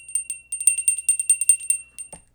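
A small bell rung repeatedly on a livestream, a rapid run of bright metallic dings in a jangling rhythm that stops abruptly with a short thud at the end.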